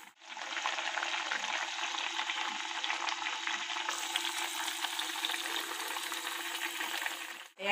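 Fish oil sizzles and fries with eggplant in a pan, a steady bright hiss that holds evenly for several seconds. It is close and uninterrupted and ends abruptly.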